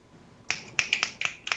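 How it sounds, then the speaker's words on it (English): A run of about seven crisp finger snaps, close and clear, coming in a quick, slightly uneven rhythm after a brief quiet start, with no talking. "I gotta give you the snaps. The finger snaps."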